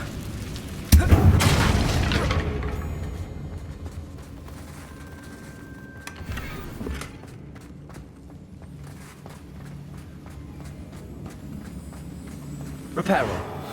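A Confringo blasting spell goes off in Hogwarts Legacy against a worn-down bridge, a loud, deep boom near the start that rumbles and fades over a few seconds, followed by quieter game ambience, footstep-like movement and a second thud at the end.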